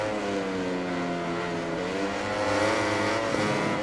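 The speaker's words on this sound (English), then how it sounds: "I can hear that Yamaha behind as well." Yamaha MotoGP bike in a racing video game, a steady high engine whine with layered revving harmonics, joined by another rising engine note toward the end, continuous and fairly loud.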